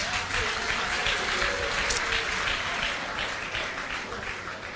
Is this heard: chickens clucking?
no